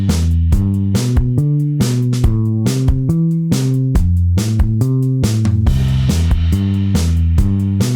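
A looped song verse plays back loud and steady, with a walking bass line stepping through notes under rhythmic drum hits and chords.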